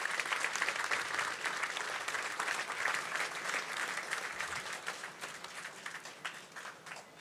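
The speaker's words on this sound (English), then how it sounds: "join me in a rousing round of applause for this recruit intake" Sustained audience applause at a military recruit pass-out parade, a broad, even wash of many hands clapping that continues steadily throughout.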